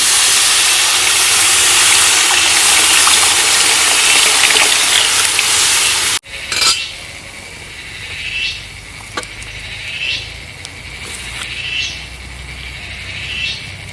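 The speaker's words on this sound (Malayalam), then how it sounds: "ഇതിലേക്ക് നമുക്ക് ആവശ്യത്തിന് വെള്ളം ഇട്ട് കൊടുക്കാം." Water poured into a pan of frying kingfish head curry base with chilli powder and wilted aromatics, giving a loud steady hiss for about six seconds before an abrupt cut to quieter simmering with scattered small clicks.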